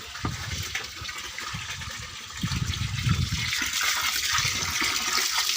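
Water gushes steadily out through an open valve as a frog pond drains. The rush is continuous and full, growing a little louder toward the end, with no voices.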